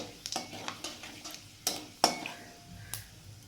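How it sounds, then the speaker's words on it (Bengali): Panch phoron and bay leaves hitting hot oil for a Bengali papaya shukto, with soft sizzling broken by several sharp clinks of a utensil against the pan, close and fairly quiet. "তেলটা গরম হয়ে গেছে আমি এর মধ্যে দিয়ে দিচ্ছি পাঁচফোড়ন আর তেজপাতা"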